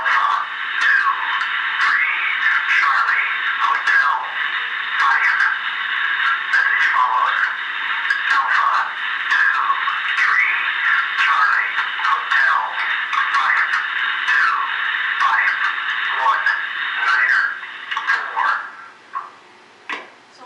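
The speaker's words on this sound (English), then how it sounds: "Strategic Air Command will send out that emergency action message that the Pentagon's been" Emergency action message from Strategic Air Command, broadcast over a Titan nuclear missile silo's radio systems: a continuous, band-limited radio voice transmission with hiss, steady for about eighteen seconds before fading out.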